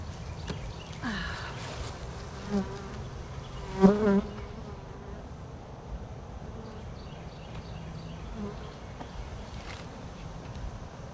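Steady honey bee buzzing fills the background, with a few louder passes drifting close; no voices.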